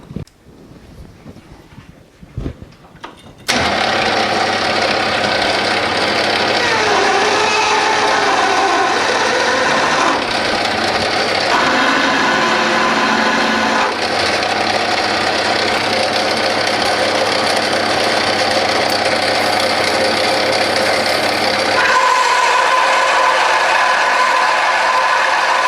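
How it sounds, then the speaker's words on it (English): After a quiet start, a Bernardo P 600 G lathe starts up and runs loudly with a steady mechanical whine and grinding of a 17 millimeter drill cutting into grade 2 titanium, continuing throughout. "And now we try our brand new 17 millimeter drill and see what happens."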